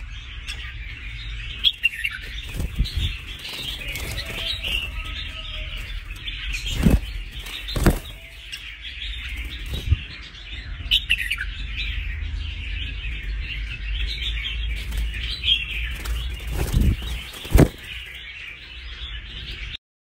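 A red-whiskered bulbul sings bright, repeated phrases over steady background chatter of other birds, with a few sharp nearby knocks and clatters.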